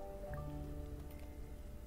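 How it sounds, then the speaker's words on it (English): Steady rainfall in The Sims 4 farm game, a dense even patter under soft in-game music tones, continuous and moderately quiet throughout. "It's raining up a storm."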